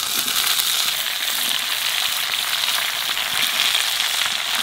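Potatoes, carrots, sweet potato and pumpkin fry in a pan, giving a steady, loud, close hiss and sizzle with fine crackles, heard alone without speech.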